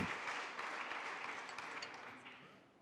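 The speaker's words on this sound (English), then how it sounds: "Give them a big applause" Steady applause from a crowd, faint and distant, gradually fading over a few seconds.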